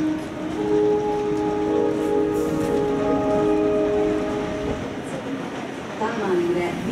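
EuroNight Wiener Walzer train pulling into a platform at Budapest Keleti station, a loud steady rumble with sustained tonal squeal from the wheels and brakes, then easing, while a station announcement plays over it.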